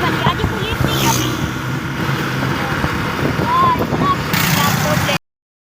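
A motorcycle is ridden fast, with a continuous loud rush of wind and road roar that covers any engine note.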